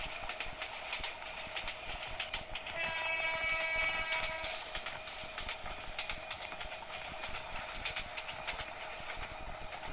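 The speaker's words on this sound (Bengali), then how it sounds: "আমার এমন কেন যেন মনে হচ্ছে সামনে দিয়ে এমন আরেকটি ট্রেন আসছে" Train rolling along in a Bangladesh train simulator game, heading toward Pahartali station; a steady, loud rail rumble runs throughout with a brief whistle-like tone rising around the middle.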